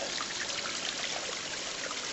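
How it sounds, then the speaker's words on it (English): Creek water flows steadily over rocks in a forest stream, a continuous close splashing and trickling wash with no talk. "just listen to the water"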